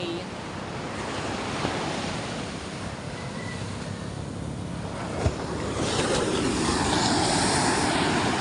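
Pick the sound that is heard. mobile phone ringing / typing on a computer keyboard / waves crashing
waves crashing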